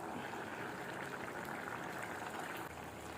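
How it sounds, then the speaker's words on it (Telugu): Sweet potato boiling in a pot of water makes a constant, soft bubbling hiss that holds steady for about three seconds, close and quiet with no talk. "10 మినిట్స్ ఉడకని చూసుకోవాలి కందగడ్డ ఉడికిందా లేదని"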